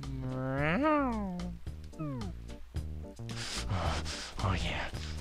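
Kitty, a cat villager in Animal Crossing, lets out a loud, rising and falling meow, followed by shorter chirpy meows and then a burst of noisy, hissy game chatter.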